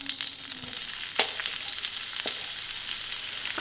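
Garlic fries in butter and oil in a pan, a constant bright sizzle with a couple of faint utensil taps and no voices.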